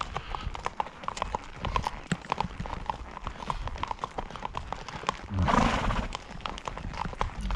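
A horse named Thunder plods along a muddy trail, its hooves landing in a steady, close clip-clop rhythm with a brief rustling burst partway through.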